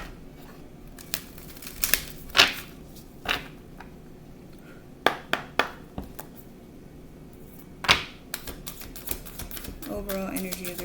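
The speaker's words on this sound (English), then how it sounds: "I'm not shuffling the cards too hard" Tarot cards that tend to stick together are shuffled gently by hand, giving scattered soft riffling snaps and papery flicks at irregular intervals over a quiet background.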